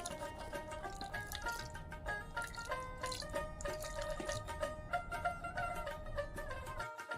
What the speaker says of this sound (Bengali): দিচ্ছি একটু পানির ছিটা